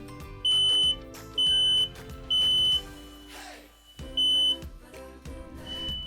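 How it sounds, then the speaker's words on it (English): Loud electronic smoke alarm beeps sound in four repeated bursts, each about half a second long, from all the interconnected alarms in a house over background household noise. "all the alarms in the house are sounding."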